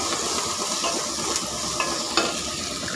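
Curry leaves and coriander being stirred into vegetable sambar in a pot, a continuous loud sizzle with rhythmic scraping and clinks of the spoon against metal, no speech.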